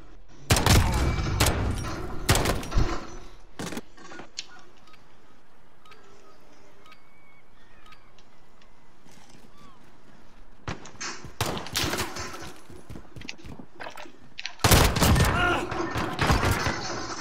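Bursts of gunfire in the first-person shooter Call of Duty: Modern Warfare, loud volleys at the start, around 11–13 seconds and near the end, with quieter game ambience between.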